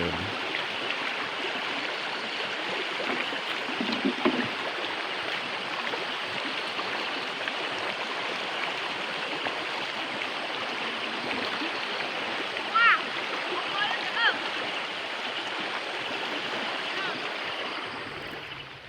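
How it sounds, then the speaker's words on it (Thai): Water splashes steadily in a rural stream in Laos as a woman washes her face, a continuous rushing wash with a few brief louder splashes. "สาวซีล้างหน้าเด้อ"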